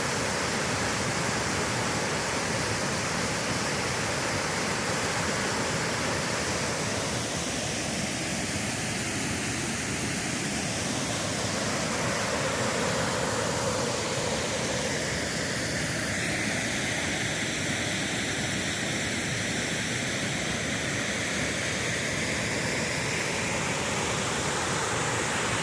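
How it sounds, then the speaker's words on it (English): Wynoochee Falls roars with a steady, loud rush of falling water that holds a constant broadband wash for the whole stretch, with no voices over it. "Back at Wynoochee Falls."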